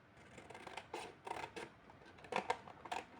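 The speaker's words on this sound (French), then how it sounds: "comme j'ai fait les traits, moi, je vais le faire au ciseau." Scissors snipping through paper card while a pop-up card is made, a series of close, crisp cutting snips in irregular bursts, quiet and alone with no talking.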